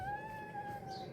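A single cat gives one clear, drawn-out meow at close range, a steady tonal call lasting about a second.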